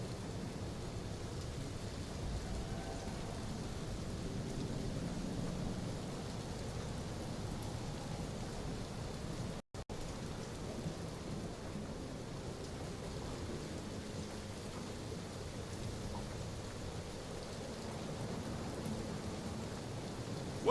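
Steady rain with a low rumbling thunderstorm bed in the Guardians of the Galaxy video game, a constant even hiss at moderate level running alone with no voices, briefly cutting out midway.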